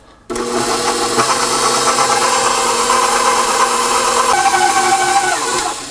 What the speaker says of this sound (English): we're going to knead that in the mixer with the dough hook for 10 minutes